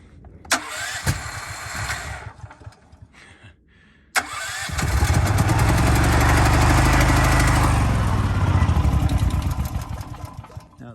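A Firman generator engine gives a couple of brief cranking bursts, then fires and roars up loud and close, running steadily for several seconds before tapering slightly.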